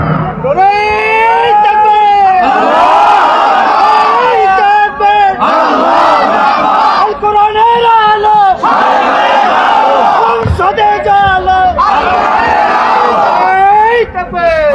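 At a tafsir mahfil religious gathering, a large crowd loudly chants a takbir slogan in repeated rhythmic call-and-response rounds, the voices swelling together and pausing briefly between shouts.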